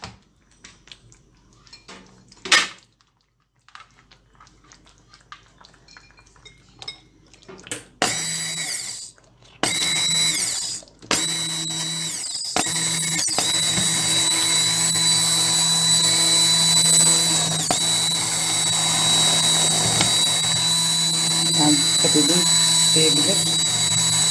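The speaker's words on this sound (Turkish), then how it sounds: "Şimdi rondodan geçireceğim." After a quiet stretch with a few clanks, a loud motorized whir starts and runs steadily, a food processor churning boiled ingredients for Balkan lutenitsa sauce continuously and close by.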